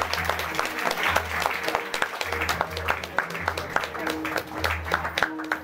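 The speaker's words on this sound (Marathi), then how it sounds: "सर्वांनी जोरदार टाळ्या वाजवायच्या." An audience at a teacher's retirement ceremony in a village claps loudly and steadily for several seconds, with a voice and low tonal sounds faintly underneath.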